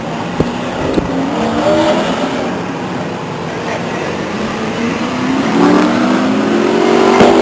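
Race cars roaring away together at the green flag on the Stockton 99 Speedway oval, a loud layered engine surge with rising revs building toward the end, while an announcer talks over it.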